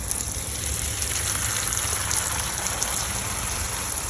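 A water spray rinses a front door after brush cleaning, a steady broadband hiss of water hitting the surface, continuous and even throughout at moderate level, close to the door with no speech.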